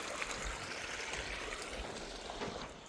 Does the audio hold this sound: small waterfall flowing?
yes